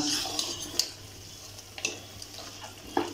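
Masala being sautéed in a pan for mutton rassa, with scattered clinks and scrapes of a spoon against the pan over a soft background, each stroke distinct and fairly faint.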